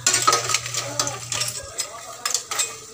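Food being sautéed in a pan in a home kitchen before coconut milk goes in, a utensil scraping and stirring in short rhythmic strokes over a faint sizzle, close by.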